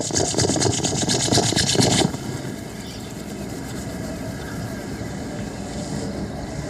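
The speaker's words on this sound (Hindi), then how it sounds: "अपने दोनों हाथों को एक दूसरे के साथ रब करेंगे" Two palms rubbed briskly together during a guided yoga and breathing routine, a dense dry friction hiss for about two seconds before it drops away to a quieter room background.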